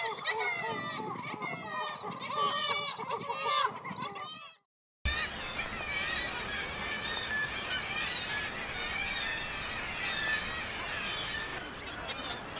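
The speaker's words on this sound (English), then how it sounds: "the cliffs still echo to the call of the kittiwake, a call which gives the bird its name" Kittiwakes calling at the Bempton Cliffs seabird colony, a dense, continuous clamour of loud overlapping cries echoing off the cliffs, with a brief silent break partway through.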